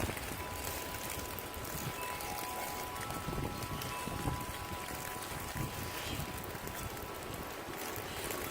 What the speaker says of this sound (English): Okay, we're gonna pour a little bit out.